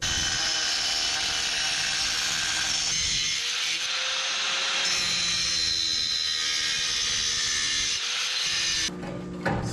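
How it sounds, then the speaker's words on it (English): Relief cuts made into a sheet metal edge for a homemade smoke stack, with steady harsh cutting and rasping that runs near and loud, broken by brief pauses and a scraping stop at the end. "I'm going to put some relief cuts in there since this is actually going to be going around a corner"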